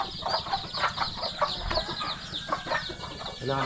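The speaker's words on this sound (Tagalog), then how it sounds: "Ito na lang manok ang hindi pa." Several chickens cluck and cackle nearby in a busy, overlapping stream of short calls, with low rustling underneath.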